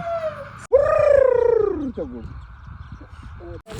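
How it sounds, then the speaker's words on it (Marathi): A loud, drawn-out wailing peacock call slides downward over about a second, followed by softer background sounds and a shorter call. "मोराचा आवाज येतो"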